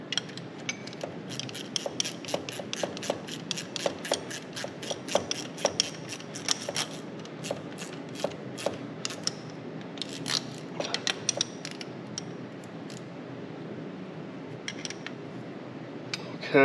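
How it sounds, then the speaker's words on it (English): A GearWrench ratchet tightening a nut with a lock washer while fitting an aftermarket air-conditioning unit: rapid, close metallic clicking in bursts over a steady background hum, thinning out toward the end. "Come on, gear wrench."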